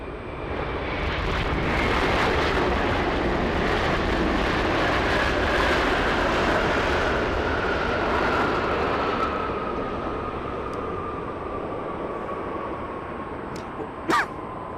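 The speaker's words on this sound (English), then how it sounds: "Lufthansa, next one to land. Lufthansa 456 from Frankfurt." A Lufthansa airliner from Frankfurt lands at Los Angeles: a steady engine rush with a whining tone swells in the first seconds and slowly fades, ending in a few brief clicks and a short sharp burst.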